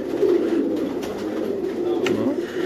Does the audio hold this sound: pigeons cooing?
yes